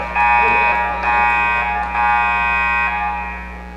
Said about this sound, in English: I guess the multiple buzzers means she fouled out